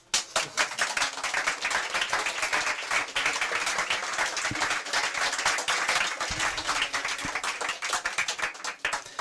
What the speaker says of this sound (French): Je trouve qu'on devrait l'applaudir.